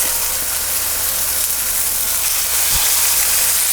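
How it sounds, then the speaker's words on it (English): Beef patties for Salisbury steak searing in a pan heated over medium-high heat, giving a loud, steady, close hiss that holds evenly throughout. "let's go ahead and sear our patties"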